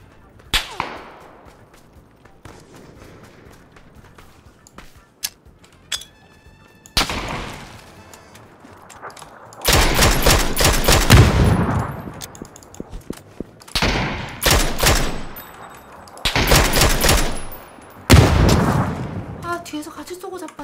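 Gunfire rings out from behind in a solo competitive shooter match, arriving as loud, rapid bursts of shots separated by quieter gaps, with a player talking between and over the shooting.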